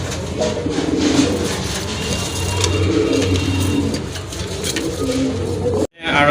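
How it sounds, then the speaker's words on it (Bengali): Pigeons cooing among running pairs of Rajgolla, Gorra, Giribaz and racer birds, a steady low cooing murmur throughout with traffic-like noise mixed in, cut off briefly near the end. "আরও দুইটা কবুতর রয়েছে।"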